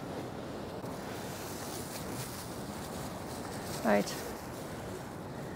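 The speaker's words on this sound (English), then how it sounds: "the waves are getting right up" Sea waves surge against a pier in a steady, broad roar mixed with wind buffeting the microphone, and someone says a single word near the end.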